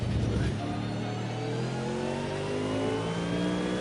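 Race car engine revving in Project Cars 2 during a PC time trial, a loud continuous drone with rising harmonics climbing steadily as the car accelerates through the gears, close and unbroken.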